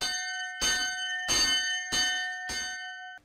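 A bell rings at the entrance of the Cornille-Havard bell foundry in Villedieu-les-Poêles. Four clear, ringing strikes come at a steady pace, and the bright metallic tone hangs on between each one.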